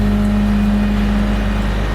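A tank truck pulling a 1974 Great Dane full-frame trailer drives off with a steady, loud engine hum that holds even for two seconds, with no voices.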